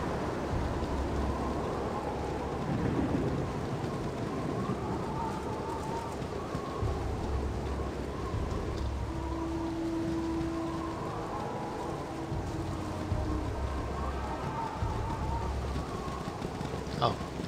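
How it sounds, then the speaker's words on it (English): Rain falls in the video game Baldur's Gate, a steady, even patter that fills the whole stretch with no break, with a faint background tone in places. "Oh no, it's starting to rain again."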